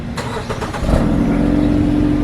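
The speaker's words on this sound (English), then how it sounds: "let's go ahead and remote start the car" A Jeep Renegade started remotely: a short crank gives way to a steady idling engine that holds at a fairly loud, even level to the end, with no talking.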